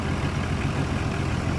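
A Nissan Patrol Y60's 4.8-litre engine idles steadily with a deep, continuous low rumble, close by and unchanging throughout.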